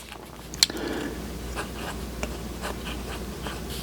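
A Hongdian A9 fountain pen with a number 8 nib writes on paper, giving a faint, soft scratching of continuous strokes with a few small taps.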